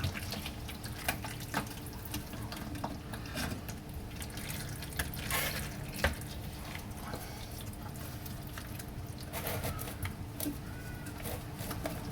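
Thick gear oil drains from a rear differential in a garage, a steady trickling and dripping of liquid with faint workshop background, no voices.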